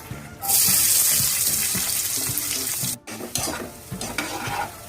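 Chopped onions drop into hot oil with mustard and cumin seeds, erupting in a loud, hissing sizzle that holds steady, breaks off for an instant, then resumes with stirring.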